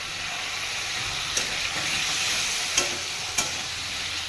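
Carrot-potato paneer curry sautés in a pan with a steady, bright sizzle. A few sharp spoon scrapes stand out above the continuous frying hiss.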